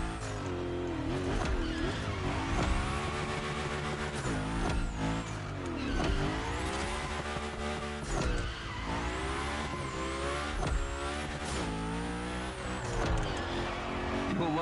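The Unicorn in a The Crew Motorfest gymkhana event slides in long drifts, its engine revving and swooping in pitch between gears while tires squeal almost continuously, loud and close.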